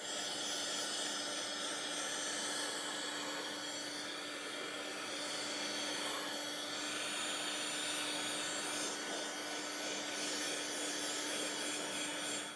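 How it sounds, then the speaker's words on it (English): Heat gun blowing hot air onto a wood sample board finished with cold-check lacquer, a steady close broadband roar with a faint constant hum, continuous for the whole stretch with no talk. "I'm going to hit it with a little bit of hot air from the heat gun"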